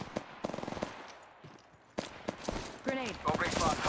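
Bursts of rapid automatic gunfire in Apex Legends Mobile crack out in quick strings, then sparser single shots and a louder volley, mixed with other game effects.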